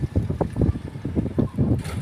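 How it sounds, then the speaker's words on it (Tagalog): Strong wind buffets the microphone by the sea at Tanza, Navotas, with gusty low rumbling surges and a steady roar over open water, no voices. "Lakas ng hangin, mga ka-fishing"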